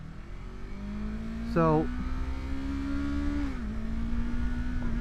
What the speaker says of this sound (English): downshifted, gave the bike a little bit of gas, and slowly started to release the clutch lever